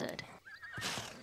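A horse whinnies in The Sims 4, a loud, rising neigh bursting in at the start, then a gap and a second whinny, with a hoof clop or two mixed in.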